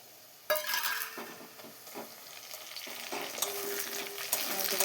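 Onions fried deep red in a pan for chicken kosha as chopped tomatoes go in, giving a loud, bright sizzle that rises suddenly and carries on, with repeated stirring scrapes and light utensil clatter.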